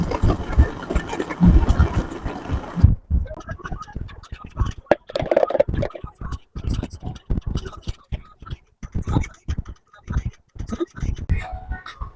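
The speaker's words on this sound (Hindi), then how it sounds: "अब इसको ब्लेंड करते हैं" Blender whirring through a mint margarita mix with Sprite, a loud buzzing motor that starts and stops in bursts, with voices talking over it.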